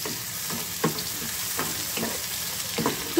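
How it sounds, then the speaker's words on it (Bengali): Onions and tomatoes fry for a chicken curry, a steady close sizzle broken by occasional stirring scrapes and taps in the pan. "পেঁয়াজটা তো ভাজা হয়ে এসছে, আমি এই মুহূর্তে দিয়ে দিচ্ছি টমেটো।"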